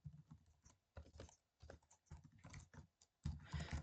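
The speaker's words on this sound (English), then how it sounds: "my typing is atrocious" Keys clatter on a computer keyboard in irregular bursts of typing with short pauses between, close and fairly quiet, ending in a denser flurry of keystrokes.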